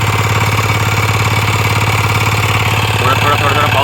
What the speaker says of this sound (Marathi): आता फायनली चालू केला आहे त्याने पॉवर ट्रिलर छोटा ट्रॅक्टर